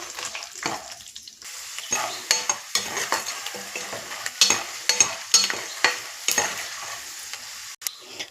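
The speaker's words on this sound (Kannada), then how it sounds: "ಕಡಲೆ ಬೀಜ ಅಲ್ಲಿ ತನಕ ಈ ಥರ ಫ್ರೈ ಮಾಡ್ಕೊಳ್ಳಿ" Peanuts fry in a pan until crisp, with a soft sizzle under a spoon stirring and scraping in regular close strokes, each stroke a brief rattling sweep.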